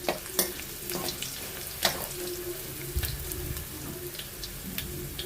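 Garlic frying in oil in a pan for an ivy gourd stir-fry, a steady soft sizzle close by, punctuated by sharp clicks and scrapes of stirring.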